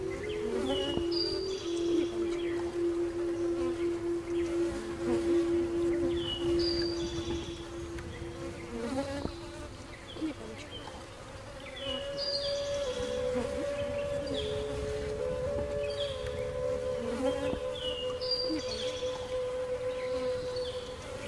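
A honey bee colony of around 60,000 bees buzzing steadily around its hive, a continuous droning hum with shifting tones, close and fairly loud, with no talking.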